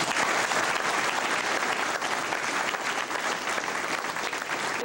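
A crowd applauds a student at a martial arts demonstration, a dense and loud wash of clapping that holds steady throughout with no talk over it.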